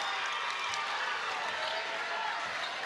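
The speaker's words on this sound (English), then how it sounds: "Listen to that crowd." A packed college basketball arena roars during Utah State versus North Texas, a dense, steady wash of cheering and clapping that stays loud and unbroken throughout.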